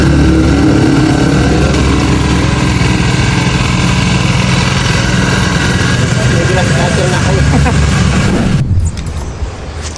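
A new grass cutter is run on test, its small engine droning loud and steady up close for most of the stretch before cutting back near the end, with voices mixed in.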